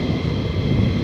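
A military jet at RAF Lakenheath, an F-15 Strike Eagle or F-35 Lightning II, roars loudly in a brief steady blast of broadband engine noise.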